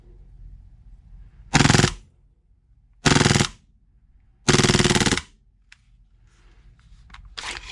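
Full-auto bursts from an airsoft pistol such as the AAP-01 or WE Galaxy, three loud, rapid rattling strings of shots separated by quiet pauses, with faint mechanical clicks between them.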